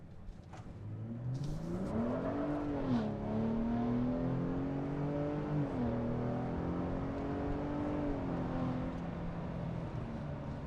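A 2023 Ford Raptor V6 truck with a revised exhaust accelerates through its gears, the engine note climbing, dropping at each shift and pulling again, heard steadily from inside the cabin.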